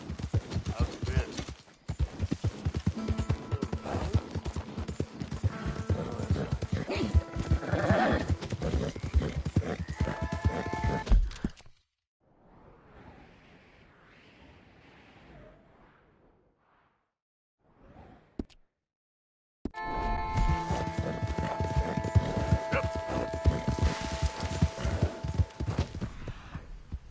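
Horse hooves clip-clopping in the video game Red Dead Redemption 2, a steady rapid gait with occasional whinnies and swishes, broken by a quiet stretch before the hoofbeats resume.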